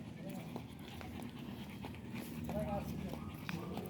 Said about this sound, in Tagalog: Oo nga, dito maraming aso.